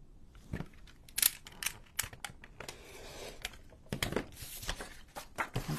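Scissors snipping through paper while cutting out a piece for a handmade Nutcracker shaker card, a run of sharp, close crisp cuts with short pauses between them.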